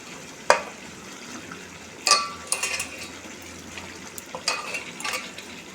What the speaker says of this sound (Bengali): এরপর মাংসগুলো দিয়ে দেবো একটা করে এই মশলার মধ্যে